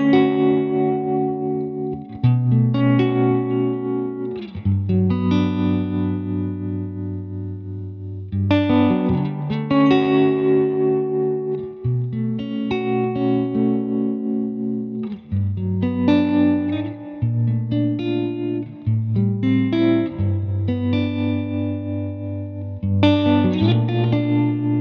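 Electric guitar played through a Milkman Sound 20 Watt Creamer amp with subtle tremolo and spring reverb, loud chords and melodic phrases ringing out with gentle pulsing and a soft reverb tail, no talking.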